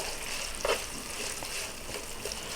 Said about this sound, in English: Make sure this is still cooking down nice, releasing all those oils